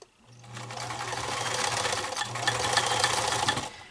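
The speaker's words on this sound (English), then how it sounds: "So I'll start sewing right here where I put that pin." A sewing machine stitches a cat collar in two continuous runs of rapid mechanical chatter, close and steady, with a brief pause between bursts.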